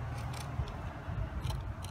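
Scissors snipping hair off the brush bar of a Eureka Quick Up stick vacuum, several quick close-up cuts in an uneven rhythm over a low background hum, with no talking.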